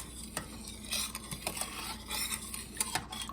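A spoon scrapes and clinks through Mexican-style chili with chicken broth in a metal pot, giving irregular close strokes with soft simmering sizzle underneath.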